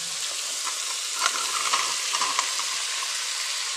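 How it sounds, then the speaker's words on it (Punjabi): Tar vegetable added to a pan of fried onion, tomato and finely chopped garlic, giving a loud, steady close-up sizzle with a few faint scrapes and no talking. "ਹੁਣ ਆਪਾਂ ਤਰਾਂ ਪਾ ਦਿੰਦੇ ਆ"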